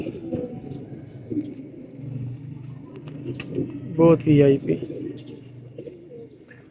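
Teddy pigeons, yellow-beaked breeding birds, coo in a short rolling burst near the middle over a low, steady murmur of other birds, while someone talks almost throughout.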